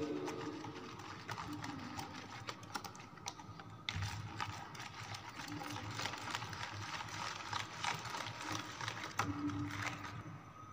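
Flour, egg and food colouring are mixed into a batter, producing a steady run of soft rapid scraping and clicking strokes in a bowl, close and quiet, with no speech.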